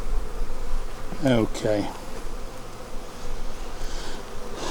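Bees buzzing inside a failing beehive give a steady close drone, and a short spoken word sits partway through.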